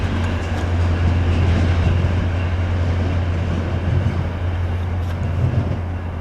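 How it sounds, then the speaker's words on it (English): A Utah FrontRunner commuter train passes by with a steady, loud rumble and low hum of rolling wheels, filling the whole stretch without a break. "There goes the Utah Front Runner train."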